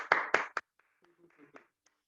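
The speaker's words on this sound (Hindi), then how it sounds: "तो एक जोरदार ताली आप सभी के लिए," A few sharp hand claps ring out at an indoor talk, three quick bursts close together, followed by quieter murmuring voices.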